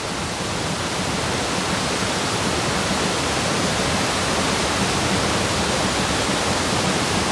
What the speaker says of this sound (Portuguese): A água desce do platô elevado de Shuruppunji.